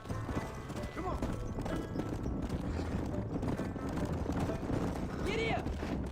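Rapid clip-clop of horse hooves galloping in the Red Dead Redemption video game, with a horse whinnying near the end and a voice talking over the hoofbeats.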